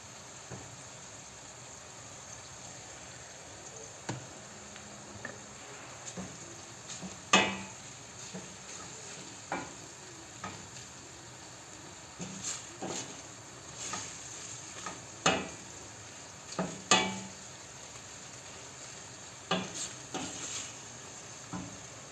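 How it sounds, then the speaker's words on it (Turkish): Quiet sizzling of ground meat and chopped onions frying in oil in a pan, with intermittent scraping and stirring clicks from a utensil, soft and close, without any talking. "Şimdi kıymamıza biraz yağ ekleyip soğanlarını da üzerine ekleyeceğim arkadaşlar"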